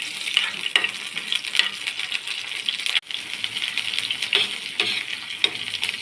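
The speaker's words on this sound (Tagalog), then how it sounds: "Umpisa na natin yung paggisa ng sardinas mga kapato." Garlic sizzles in hot cooking oil for sautéed sardines. A steady, fairly loud hiss runs throughout, with a few sharp clinks and scrapes of a utensil against the pan.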